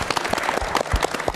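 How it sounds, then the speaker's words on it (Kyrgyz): A studio audience on a Kyrgyz television show claps to welcome a businessman guest, a short burst of fairly close, uneven hand claps lasting under two seconds. "Кол чаап коелу."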